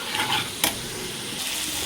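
Spices frying in oil with green chilli in a pan for a fish and brinjal curry, stirred with a small spatula, giving a steady close sizzle with a sharp scrape partway through and no talking.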